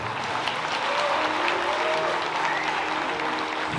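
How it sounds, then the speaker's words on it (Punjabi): A concert audience at a live Punjabi music show in Seattle bursts into loud, sustained applause, a dense wash of clapping with faint crowd voices mixed in, steady throughout. "ਜ਼ੋਰਦਾਰ ਤਾੜੀ ਮਾਰ ਦਿਓ"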